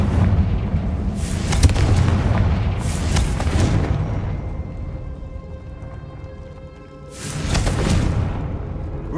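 Confringo fire-blast spells explode in Hogwarts Legacy, three heavy booming blasts with whooshing tails, loud and close, separated by brief quieter stretches.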